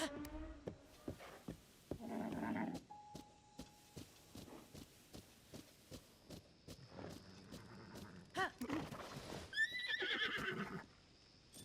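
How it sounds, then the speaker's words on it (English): Giant white stallion in Tears of the Kingdom neighing in loud whinnying bursts, accompanied by repeated clip-clop hoofbeats and other game sounds. "That's the giant white stallion we've been trying to research."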